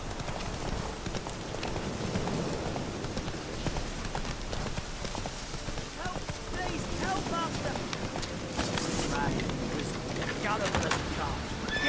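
Horse hooves clip-clop steadily in The Witcher 3 as a rider moves along, a continuous rhythmic patter close by under ambient game noise and background sound.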